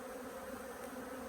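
Honey bees hum in a dense, steady drone around an open hive during an inspection where the marked queen has been found, the colony agitated and feisty, the buzzing close and continuous throughout.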